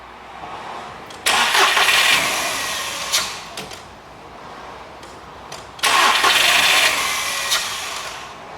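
A Seat Ibiza car engine cranks and catches from cold twice, each start bursting into a loud rev before settling to a rough idle.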